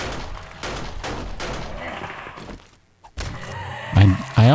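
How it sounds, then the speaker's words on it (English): Gunfire in the 7 Days to Die survival video game: a rapid series of loud, close shots in quick bursts, a short pause, then more heavy thumping shots. "I always shoot them"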